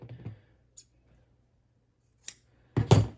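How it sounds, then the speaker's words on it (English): Scissors snip through sewing fabric as a piece is trimmed to size, giving a few short, quiet crisp cuts separated by pauses, with the last snips louder and closer together. "Just cut it about the same size"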